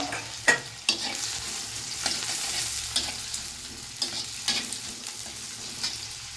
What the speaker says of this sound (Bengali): দেখো তেল গরম হয়ে গেছে, তেলের মধ্যে দিয়ে দিচ্ছি প্রথমে একটু পেঁয়াজ